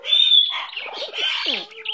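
A pet bird, a female, chirps up close: a bright, thin whistle opens into a burst of rapid, varied tweets and squeaky calls, with no talking over it.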